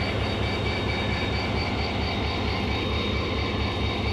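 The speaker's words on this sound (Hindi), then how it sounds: "और इसकी जो ये साउंड है ना, नॉचिंग अप साउंड, ये बहुत खूबसूरत है, मज़े की है" A Pakistan Railway HGMU30 diesel locomotive, rebuilt at the Mughalpura workshop and rated 3000 horsepower, rumbles loudly and steadily at close range with a deep droning engine and a faint whining tone, no voices.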